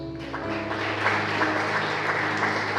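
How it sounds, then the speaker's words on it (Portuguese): Church congregation applauds during a worship service, a short burst of steady, moderately loud clapping over a low sustained background hum. "Aplauda Jesus."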